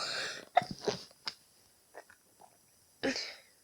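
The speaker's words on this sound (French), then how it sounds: "J'ai éternué" A person sneezes nearby with a sharp burst, followed by small sniffs and breaths and another brief, breathy outburst near the end.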